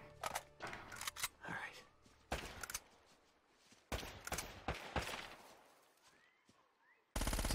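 Micro MG fire in the video game Uncharted: scattered short bursts of rapid gunshots with game sound effects between them, fairly quiet overall, ending in a louder burst.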